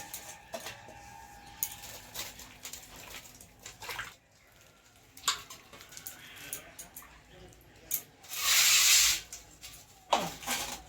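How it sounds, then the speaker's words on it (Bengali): Mustard flowers washed in water, with a burst of splashing and rushing water late on, amid scattered handling clatters and knocks, close by with no talk. "ফুলগুলো আমরা ভালো করে ধুয়ে নেবো"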